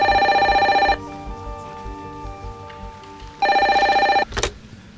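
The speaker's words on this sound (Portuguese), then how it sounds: "o Fernando voltou a me ligar" A telephone rings loudly with a bright electronic tone, sounding twice with a quiet gap between the rings, followed by a short click.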